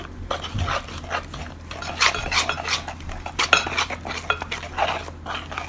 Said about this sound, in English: Add the required amount of salt. Mix nicely.